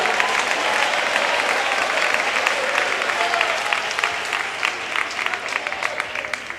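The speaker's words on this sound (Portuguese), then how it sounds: "eu quero ouvir palmas misturado com glória a Deus" A Portuguese-speaking church congregation claps steadily for several seconds during a worship service, a loud, dense wash of many hands that thins slightly into scattered, sharper claps toward the end.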